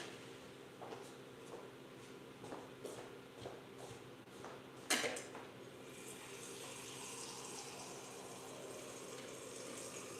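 Water from a tap filling a container indoors, a steady soft rush after a few knocks and shuffles, with a sharp clunk partway through, heard close and without talk.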